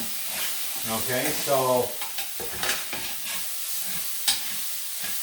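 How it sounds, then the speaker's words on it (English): Onions and mushrooms frying in a pan that earlier seared chicken, sizzling with a steady bright hiss while being stirred and scraped close by, as someone talks briefly over it. "right now the onions and the mushrooms are starting to break down that fond that are on it from searing the chicken"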